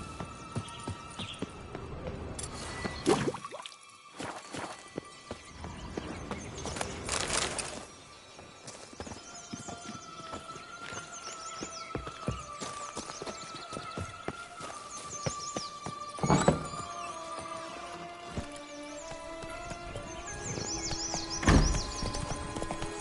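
Horse hooves galloping in The Witcher 3 video game, a steady rhythmic clip-clop running throughout with occasional snorts and whinnies, accompanied by background music.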